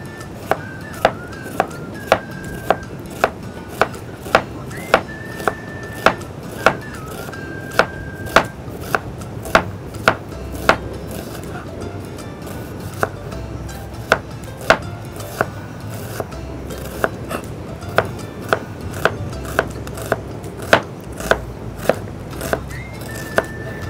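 An onion is chopped finely on a cutting board, a steady rapid run of sharp knife taps close by that keeps going throughout with brief pauses and no talk.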